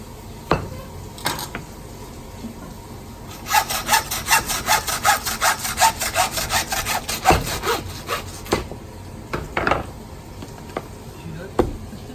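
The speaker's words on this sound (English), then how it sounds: "when cutting the legs off, you count about an inch away from the pelvis" A whole lamb carcass is sawn through at the legs near the pelvis, giving a steady run of rapid, close rasping strokes in the middle, framed by scattered clunks and knocks.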